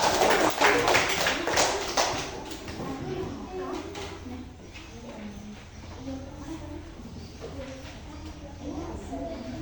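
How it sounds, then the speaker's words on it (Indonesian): A class applauds a student named Syukran Gazira, with a burst of close, brisk clapping at the start that soon fades into quieter room noise and murmuring voices. "tepuk tangan untuk Syukran Gazira"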